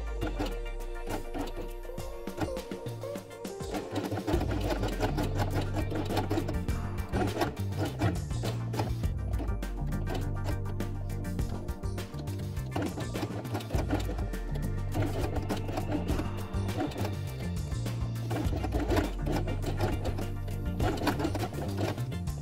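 Sewing machine stitching felt pieces together along an edge with brown top thread and white bobbin thread, running in repeated bursts of rapid mechanical clatter with short pauses between runs, close and clear.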